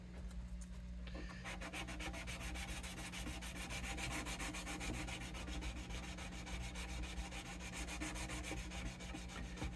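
Steady back-and-forth scraping of a sanding block with 220-grit paper on a vintage Gibson LG-1 guitar, rapid and rhythmic, continuing for several seconds with no talking.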